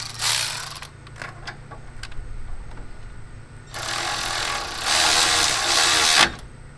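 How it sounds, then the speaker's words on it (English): Ratchet and socket tightening bolts on a Toyota Tacoma shock absorber during a shock installation, heard as close, busy clicking and mechanical bursts, with louder sustained ratcheting toward the end. "reconnect your ABS bracket"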